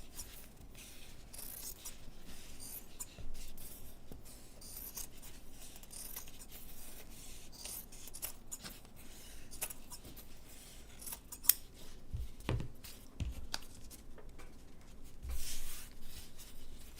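Scissors trimming fabric for a no-sew tree ornament, a soft series of quiet snips and rustling cloth at close range, with occasional faint handling thumps.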